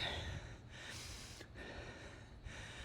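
Hard, rapid breaths with gasps and snorts come from an athlete resting midway through a long pull-up, dip and push-up workout. The breathing is close and repeated, with no talking.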